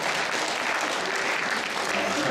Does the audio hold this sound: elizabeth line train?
no